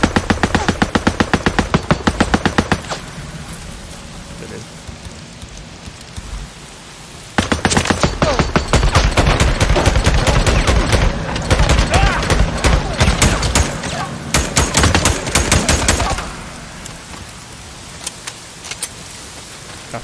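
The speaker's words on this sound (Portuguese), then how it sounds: "Pior que o tiro vem do nada, irmão." Rapid automatic gunfire in the zombie video game Days Gone, loud bursts of fast repeated shots in several long volleys with brief pauses between, a voice talking faintly underneath.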